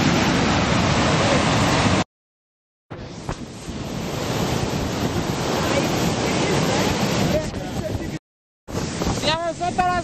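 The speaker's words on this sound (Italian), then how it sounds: "Siamo sotto la cascata." A steady, loud roar of St. Mary Falls close by in Glacier National Park, Montana, heard from beneath the waterfall, with wind buffeting the microphone and two brief silent cuts.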